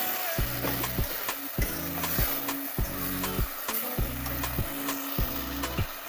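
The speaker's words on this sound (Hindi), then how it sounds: "चिली सॉस डालेंगे, मिक्स करेंगे अच्छी तरह से।" Vegetable pasta with chili sauce being stirred in a pan, a steady sizzle under repeated scraping strokes of a spoon against the pan, about five or six rhythmic sweeps, close and fairly loud.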